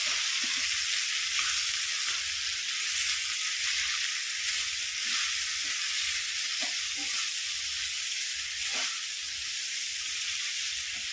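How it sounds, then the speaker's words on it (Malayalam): Koorkka (Chinese potato) stir-fry with salt and turmeric sizzles steadily in a pan on a low flame, with soft repeated scraping as it is stirred, close and continuous throughout. "ഉപ്പ് മഞ്ഞൾപ്പൊടി ഇട്ടതിന് ശേഷം നന്നായിട്ടൊന്ന് ഇളക്കാം"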